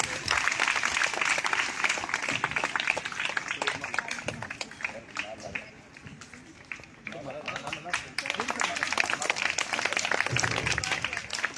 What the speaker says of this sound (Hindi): जोरदार ताली हो जाएंगे सारे बच्चे